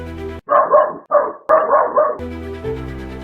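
A dog barks in a few loud, close bursts, alone, following the dog's quick reaction alerting its owner to an intruder during a burglary in San Pedro Sula.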